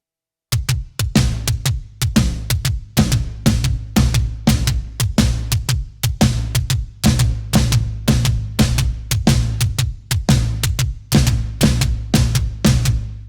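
A drum pattern alternates crisp snare hits with deep booming floor tom strokes in a steady, driving rhythm from a song, played close and loud with no voices.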